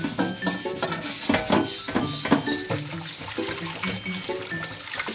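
Running water rinses a newly bought stir-fry wok, a steady close splashing and rushing with metallic knocks and clatter as the pan is handled.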